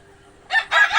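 Four-month-old Egyptian Fayoumi chickens call at a poultry sale, two short loud crowing-like bursts close by over a quiet background.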